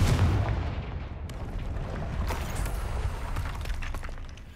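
Confringo explosive spell cast in Hogwarts Legacy, sounding as a fiery blast followed by a string of sharp cracks and rumbling booms, moderately loud with no speech.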